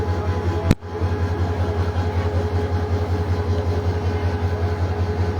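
Dolonchapa Express passenger train on the line at Parbatipur, a steady, deep, throbbing rumble close by with one sharp metallic click early on, and no voices over it.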